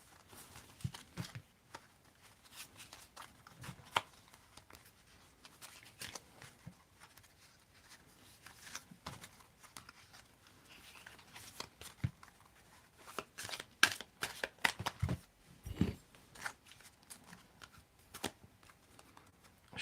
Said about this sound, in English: I'm going to mix the cards up because there is a upside down in this deck.